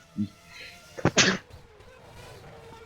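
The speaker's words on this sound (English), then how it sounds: "Really wanted to sneeze." A sharp sneeze bursts out close by after a short vocal sound, then quiet room noise follows.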